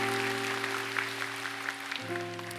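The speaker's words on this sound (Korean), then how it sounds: "박수 한번 할까요?" Congregation applause fills a young adults' Sunday worship service, a steady dense patter of clapping over sustained keyboard chords throughout.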